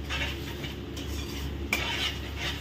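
Onion paste being stirred in a pan, a steady soft scraping and gentle sizzle with a brief sharper clink partway through, close and continuous with no talk.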